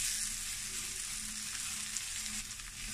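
A bitter gourd omelet sizzles and fries steadily in a pan on a stove, a continuous close hiss without pause.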